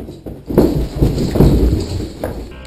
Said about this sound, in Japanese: 警察官が戻ろうとすると人が走る足音のようなものが聞こえます。